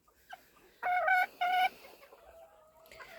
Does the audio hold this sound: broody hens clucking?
yes